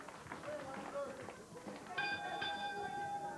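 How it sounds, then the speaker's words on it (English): A ring bell opens a wrestling match from Winnipeg, Manitoba, Canada: a bright ringing tone with sustained overtones cuts in about two seconds in and rings on over crowd noise and a commentator's voice. "Bell time, and here we go"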